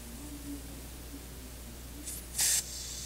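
Butane gas hisses briefly from the filling valve of a live steam butane-fired model locomotive, a short faint spray followed by a louder burst of about a quarter second over a quiet background hum.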